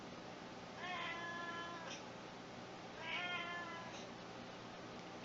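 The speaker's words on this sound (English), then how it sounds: "Do you hear that annoying, whiny meow?" A cat meows twice, a few seconds apart, each a thin, whiny cry heard faintly indoors against a quiet background.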